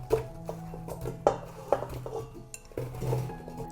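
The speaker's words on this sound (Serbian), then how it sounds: "Dodajem i očišćene jabuke." Peeled apple pieces dropped into a metal pot already holding sliced carrots, a series of light knocks and clinks spaced irregularly, close and fairly quiet, with no talking.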